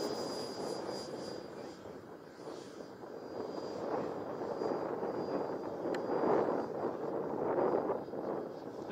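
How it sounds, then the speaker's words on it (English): A Phoenix Models Preceptor RC airplane with a 90-inch span on its maiden flight drones steadily overhead, its engine note rising and falling gently as it passes at moderate distance, with some wind noise. "A Phoenix model Preceptor with a 90-inch fan."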